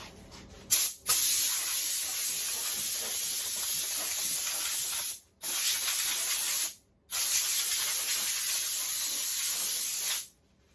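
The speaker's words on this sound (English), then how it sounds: "Let's clean it off with compressed air." Compressed air blows hard across a door before spray painting, a loud, steady hiss in three long bursts separated by brief pauses.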